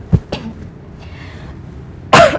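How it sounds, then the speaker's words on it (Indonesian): Two short coughs, then a louder, harsher cough-like throat clearing at the end, close by with no speech, from a person in an indoor drama scene. "Jadi batuk-batuk gini."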